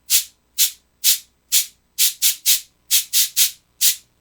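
A cabasa twisted back and forth in a cupped hand gives eleven crisp, bright scraping strokes in a steady rhythm, each a short rasping burst, close and loud with no voices.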